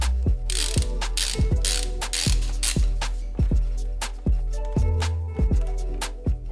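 A socket wrench ratchets steadily while loosening a square-taper bicycle crank bolt, a close, loud run of rapid clicks in repeated strokes, each burst separated by a brief pause as the handle swings back.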